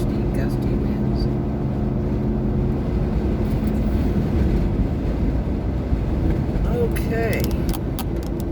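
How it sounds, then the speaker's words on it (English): Bursty gale-force wind at Okaloosa Island beach buffets the microphone with a constant, heavy low rumble and roar throughout, with no clear let-up. "Real bursty, gusty winds."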